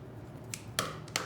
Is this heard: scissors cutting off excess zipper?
yes